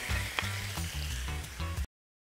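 Vegetables sizzle and fry in a hot pan as two-thirds of them go in for a fisherman's seafood medley with fish and prawns, a steady close crackle with a few sharper pops, then cutting off abruptly.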